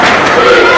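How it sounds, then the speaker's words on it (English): Student sections from both teams cheer at a girls' high school basketball game, a dense, steady roar of crowd voices filling the gym for under a second. "Student bodies for both teams are getting involved, cheering."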